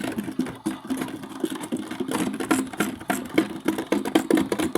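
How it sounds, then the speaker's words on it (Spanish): A washing machine in its spin cycle hums and whirs with a rapid rhythmic clatter, close and continuous, on laundry day. "Esta ya está centrifugando."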